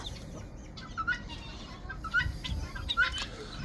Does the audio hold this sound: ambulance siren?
no